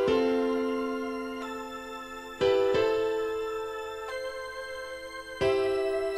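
Organ chords and ambient strings sustain a slow chord progression made in FL Studio, each chord held for a few seconds before changing, smooth and alone with no voices.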